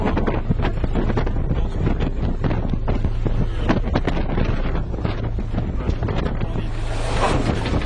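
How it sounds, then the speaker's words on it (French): Heavy wind buffeting the microphone over rushing water and big surging ocean waves around a boat at sea, a constant loud roar with no voices. "c'est des grosses vagues"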